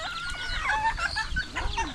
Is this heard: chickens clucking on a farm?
yes